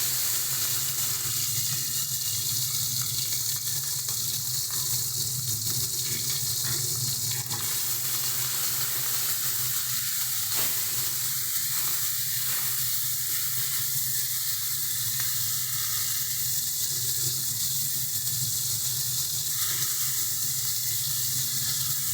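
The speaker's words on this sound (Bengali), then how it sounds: "মাছগুলোকে ভাজবো।" Prawns fry in hot oil in a steady, loud hiss and crackle that goes on without a break, with faint kitchen clatter now and then.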